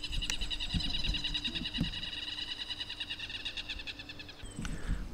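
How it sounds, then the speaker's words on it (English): Birdsong rings out in a sunny outdoor spot in Medellin, Colombia, a dense, steady chorus of rapid repeated high chirps and trills running for several seconds before fading, with a few low knocks and handling noises underneath. "you hear those birds?"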